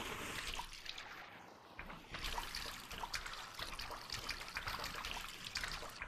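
Water trickling and splashing in the Gorilla Tag game, a steady soft liquid wash with a brief dip before resuming, continuous and fairly close.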